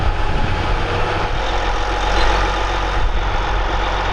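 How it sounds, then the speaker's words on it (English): An InterDrain tile plow working a field in Iowa, a steady heavy engine drone with a constant low rumble and broadband roar, close and unbroken throughout. "The InterDrain cuts through the ground like a knife through butter,"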